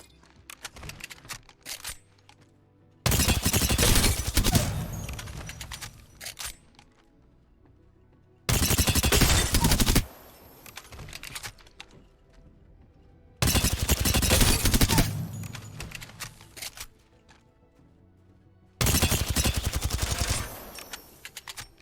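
An energy weapon in a video game fires in four long, loud, rapid bursts, each a few seconds long. Short quieter gaps separate the bursts, and no one talks.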